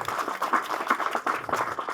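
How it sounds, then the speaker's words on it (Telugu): Audience applause at a Telugu film audio and trailer launch event, a dense burst of many hands clapping in a steady crackle, close and fairly loud, running the whole short stretch with no talk. "ఒకసారి గట్టిగా చప్పట్లు కొట్టండి అబ్బా"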